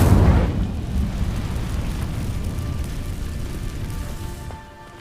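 An Incendio fire spell in Hogwarts Legacy igniting dry vines, a sudden whooshing burst followed by a steady crackling roar of burning that fades out.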